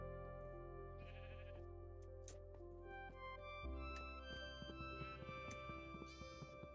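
Sheep in the Minecraft video game bleat several times in short, nasal cries over a steady background hum, the calls close and fairly clear.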